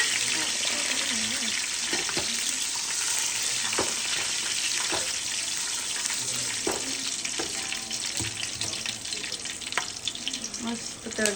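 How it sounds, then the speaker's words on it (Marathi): Garam masala spices crackle and sizzle steadily in hot oil for a biryani, a dense continuous frying hiss with scattered sharp pops, close and loud with no talk. "मस्त तडतड होतं"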